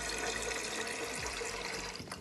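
Water is poured steadily into an electric kettle to cover its limescaled heating element, a close, continuous gushing splash that eases off slightly toward the end.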